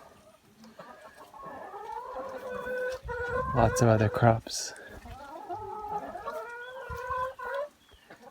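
Chickens clucking on a Colombian coffee farm, repeated close clucks and squawks with a louder burst of agitated calls midway, while a person talks over them.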